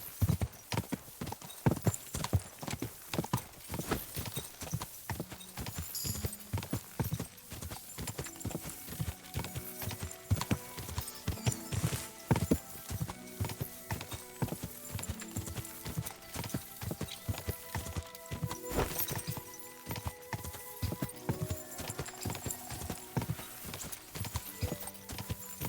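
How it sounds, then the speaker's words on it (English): Horse hooves clip-clop in a steady, continuous rhythm throughout, close and clear, with a faint whinny and some music-like tones in the background, in the video game Kingdom Come: Deliverance II. "What a beautiful horse."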